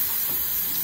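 A can of aerosol snow spray lets out one short, continuous hiss at close range, with no talking during the burst.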